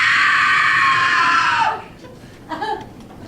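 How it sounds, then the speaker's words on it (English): A princess lets out a long, loud, sustained scream lasting under two seconds, then breaks off, followed by a quieter, shorter cry or sob. "The princess's screams echoed after him."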